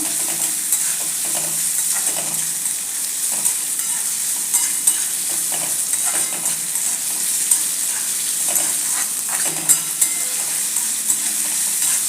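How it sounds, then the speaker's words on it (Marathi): Chopped onion sautéing in oil for a dried shrimp (jawla) dish, a steady bright sizzle with frequent scraping stirs of a spoon in the pan, close and continuous without talk. "कांदा तेलावरती व्यवस्थित परतून घ्यायचा आहे"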